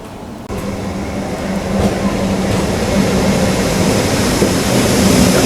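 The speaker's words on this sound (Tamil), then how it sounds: "உள்ள ஏதோ ஒரு ட்ரெயின் அரைவ் ஆகுதுங்க." A MEMU passenger train pulls into Mayiladuthurai Junction with a loud, steady rumble and a low droning hum that builds gradually after a sudden start.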